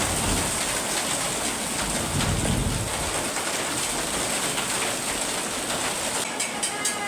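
Hail pelting a sugarcane field in the countryside makes a dense, steady hiss and patter, loud and continuous throughout, with no voices heard.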